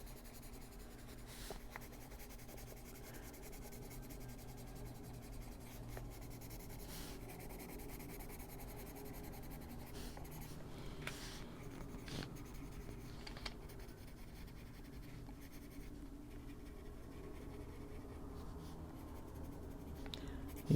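Kalour colored pencil rubbing across paper in steady, soft scratchy strokes that continue for about twenty seconds, quiet and close with no voices.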